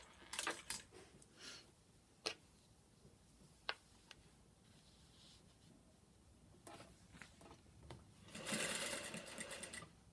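A sewing machine stitching fabric-covered welt cord, with a back tack at the edge: intermittent whirring runs and sharp clicks, ending in a louder steady burst of stitching, close by with no voices.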